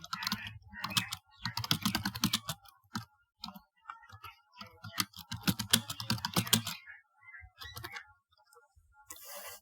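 Someone types into a web browser on a computer keyboard, producing close, brisk bursts of key clicks separated by short pauses, with no talking over them.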